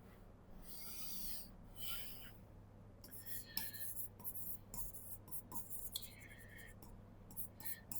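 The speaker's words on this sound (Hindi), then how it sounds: "स्टार्ट करते हैं इसके बारे में लिखना।" Pen writing on paper while answering an exam question, with quick scratchy strokes and short rubbing bursts in an irregular rhythm, close and quiet, and soft whispery noise in between.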